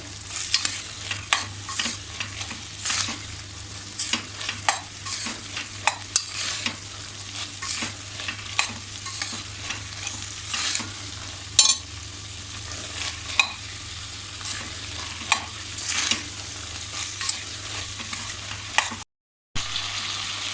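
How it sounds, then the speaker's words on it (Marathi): Tomato sautés in a pan with black-eyed peas and potatoes for a Malvani-style bhaji, giving a steady close sizzle with repeated scraping stir strokes and no talk. "तो सुद्धा आपण असा थोडा परतून घेऊ आपल्याला ह्या टॅमॅटोला मॅश करायचं नाही आहे फक्त असा थोडासा परतून घ्यायचा आहे त्या चवळी बटाट्यामध्ये"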